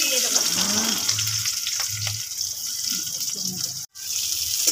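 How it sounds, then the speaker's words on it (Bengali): Onions fry in oil in a wok over a wood fire with a constant close hissing sizzle, while low voices murmur in the background. "পেঁয়াজগুলো ভেজে নিচ্ছি।"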